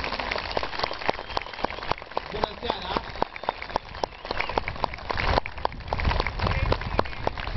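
An audience breaks into dense, crackling applause to welcome a singer, a sustained wash of many hands nearby, while a voice greets the crowd over it.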